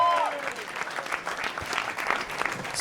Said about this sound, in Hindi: पर जोरदार तालियां यार